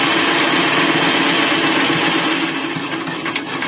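A sewing machine running steadily while stitching a flat cap, set to a 3 millimeter stitch and low on thread, a continuous close mechanical whir with no pauses.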